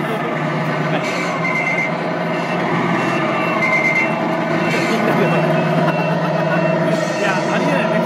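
Tamiya 1/14 scale RC truck reversing with repeated electronic warning beeps and a mechanical whine, under several people chatting nearby at a truck meeting.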